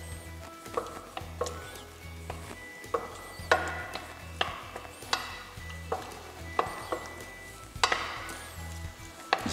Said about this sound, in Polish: Za chwilę będzie nam ten boczek skwierczał tutaj